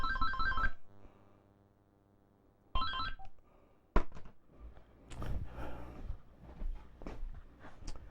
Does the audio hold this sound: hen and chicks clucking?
no